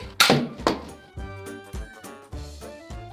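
A ball bouncing off and striking a person's head, heard as a few dull thunks in quick succession, the first two close and sharp, later ones softer.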